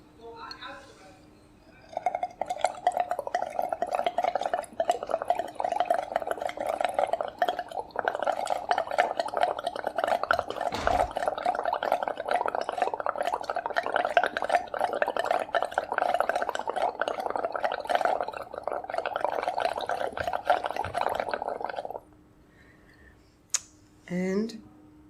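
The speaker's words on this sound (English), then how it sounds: "So now we're going to blow into the lime water." Steady bubbling of breath blown through a tube into a beaker of lime water during a school chemistry experiment, a continuous close gurgle lasting about twenty seconds before stopping abruptly.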